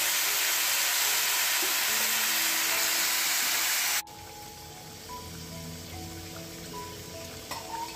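Curry with spices sizzling and frying in a pan, a loud steady hiss that drops sharply to a softer crackling sizzle halfway through, close up with no talking.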